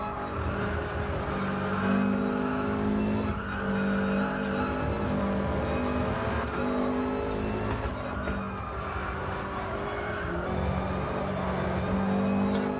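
A Subaru race car in a racing video game holds full throttle, its engine droning steadily and loudly with small shifts in pitch, alongside faint tyre and road noise, with no other sounds.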